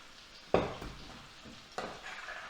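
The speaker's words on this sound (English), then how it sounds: "Let's give that a little stir." A spoon stirs mint yoghurt with a splash of olive oil in a bowl, giving two distinct scraping knocks about a second apart, each trailing into a soft wet swish, close and quiet.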